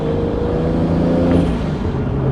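Steady, loud interior drone of a Toyota Supra being driven, a continuous engine and road hum with a faint rising whine, no clunking and no voices.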